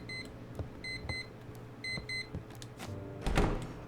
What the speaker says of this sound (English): Oh, okay, I just click on the alarm.